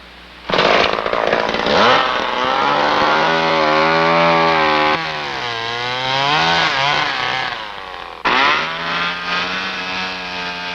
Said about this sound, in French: La scie mécanique facilite la tâche quand il s'agit de percer l'ouverture où passera le tuyau du poêle.